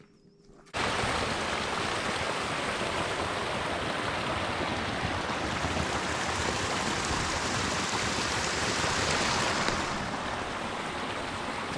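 A mountain stream rushes steadily along a snowy high trail, a loud, constant broadband wash of flowing water that starts abruptly and continues unbroken with no voices.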